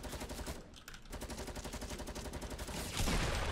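Rapid bursts of automatic gunfire from the video game Fortnite rattle in quick, regular shots, pausing briefly and then continuing; fairly faint, with no speech.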